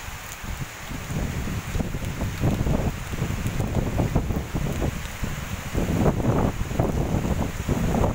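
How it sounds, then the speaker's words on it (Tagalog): Steady cold wind roars and buffets the microphone during heavy rain and fog in the Busay highlands of Cebu, with gusts rising and falling throughout and no voices. "Pero hangin kayo tugnaw."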